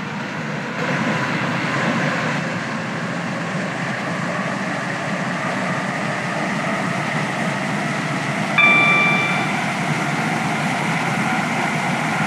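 A Stepford Connect train in a Roblox railway game runs along the track with a steady rolling rumble and motor whine, joined near the end by a brief tonal chime, with no voices.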